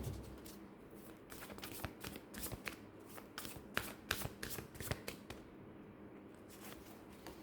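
Tarot cards shuffled by hand during a reading, a run of quick, soft, close riffling flutters and taps in irregular bursts, quiet and alone without talking.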